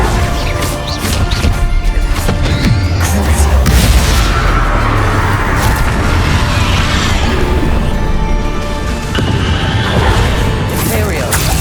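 Loud, dense spell blasts and crashing explosions from a Bombarda blasting spell in Hogwarts Legacy, with booming impacts piling up continuously over combat noise and shouting voices.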